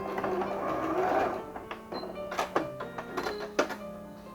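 Sewing machine stitching a seam down the middle of two joined patchwork squares for a quilted table runner, a quiet whirring run followed by short stop-start bursts and soft thunks.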